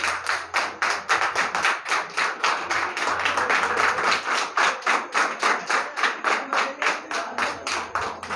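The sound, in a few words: boys clapping hands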